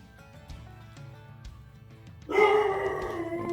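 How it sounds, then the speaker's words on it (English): A dog barks loudly nearby at people walking past, a sudden burst of harmonic barking that starts partway through after a quieter stretch of faint thumps and rustling. "My dog is such a good watchdog."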